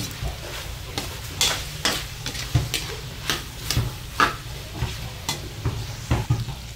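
Minudo frying in oil in a pan, a steady crackling sizzle close up with repeated scraping stirs and light clinks of the utensil at an even rhythm, no voices.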